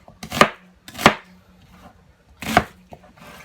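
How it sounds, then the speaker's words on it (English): A knife chops through an onion on a cutting board while sautéed chicken and broccoli are being prepared, three sharp, loud cuts spaced about a second apart with quiet pauses between them and a faint tap near the end. "I'm just gonna take this onion and I'm gonna cut it up."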